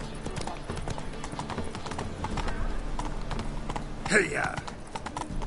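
Roach the horse galloping in The Witcher 3, rapid rhythmic hoofbeats under steady game ambience, with a brief shouted rider's call partway through.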